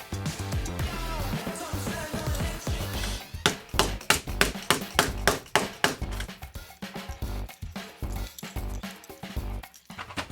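Hammer blows seat LEGO pieces into place on a large Ender Dragon build, a quick irregular run of sharp, fairly faint knocks and taps, denser toward the middle.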